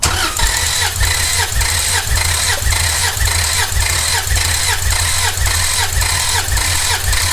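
Toyota Land Cruiser FZJ80 engine cranking with the throttle floored during a compression test, a loud, steady, rhythmic starter churn with even compression pulses repeating for several seconds without firing.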